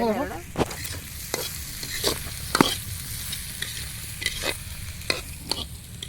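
Spoon stirring pahari (hill) chicken being fried kosha-style in a pan during village cooking: sharp scraping strokes at an irregular pace over a steady sizzle, close up, with no talk.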